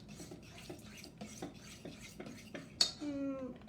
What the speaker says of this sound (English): All right, mixing this up.